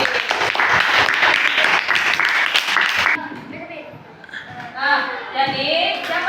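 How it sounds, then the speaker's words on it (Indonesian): Classroom applause for a student group after their presentation, a burst of clapping mixed with children's chatter, then settling into voices of kids talking. "tepuk tangan dulu buat kelompok C"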